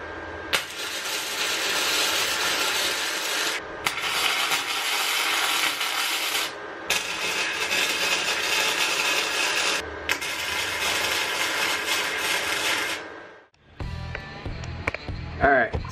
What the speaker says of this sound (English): because our rods are not long enough, we just cut it right in the middle